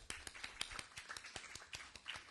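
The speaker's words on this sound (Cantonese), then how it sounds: "我哋都俾啲掌聲大家先" Scattered applause for secondary school students at the close of an interschool national security knowledge quiz competition, a thin ripple of handclaps in an uneven rhythm, moderately quiet, with no talk.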